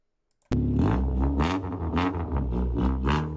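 A simulated Honda Civic EK9 engine in the video game BeamNG revs up sharply from silence, its tone rising and falling in a few surges, loud and close, with no voices.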